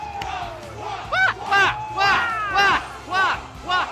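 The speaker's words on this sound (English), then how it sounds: "I did manage to catch the whole crowd cheering for Waluigi" A convention crowd chanting and cheering for Waluigi in rhythmic, swelling bursts roughly every half second, a loud group of voices filling the hall.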